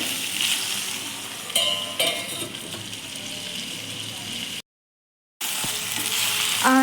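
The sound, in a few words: eggplant and tomato frying in oil on low flame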